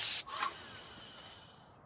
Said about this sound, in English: that's how we spray a door out.